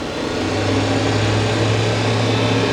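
A Fadal vertical machining center spindle runs at about 7,000 RPM, a steady, fairly loud mechanical whir with a constant low hum and no change in pitch.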